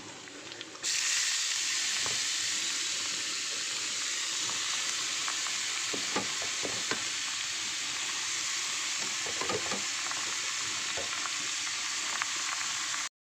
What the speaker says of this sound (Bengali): চলো এবার গ্রেট করা বিটগুলোকে দিয়ে দেবো